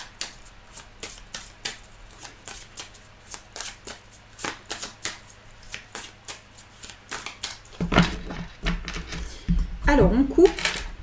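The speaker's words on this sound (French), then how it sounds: "Alors je vais remélanger un petit peu parce qu'il y a beaucoup de cartes qui sont tombées." A deck of tarot cards being reshuffled by hand, a steady series of crisp riffling flicks and slaps repeating at an even pace, then a busier clatter of cards near the end.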